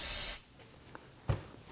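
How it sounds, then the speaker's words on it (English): A can of solvent sprays onto a 2018-2024 Toyota Camry front brake to clean off brake fluid, giving one loud, close hiss lasting about a third of a second, then quiet with a couple of small knocks. "give it a quick spray with some solvent"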